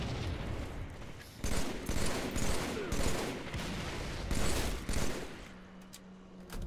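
Sustained gunfire in Halo 3 MCC during a multiplayer Slayer match, loud continuous bursts of shots with heavy booms, fading at the end under a low hum.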